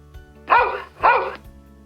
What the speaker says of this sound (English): we'll play an audio file of a dog barking using our smart speaker